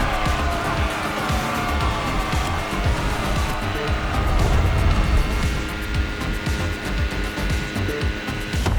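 A Lamborghini in The Crew Motorfest video game, its engine roaring loud and steady through the whole stretch with rising and falling revs, some tire and road noise, and faint talk underneath.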